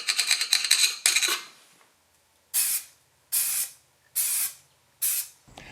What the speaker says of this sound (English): I'm going to touch this paint up with the best I can find, which is the Blitz Black from John Deere.